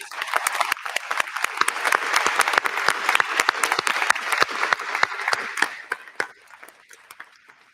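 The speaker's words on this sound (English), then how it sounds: "a final round of applause for our retirees" A final round of applause for retirees at a university employee recognition ceremony: a dense, steady wash of many hands clapping in the hall, tapering off toward the end.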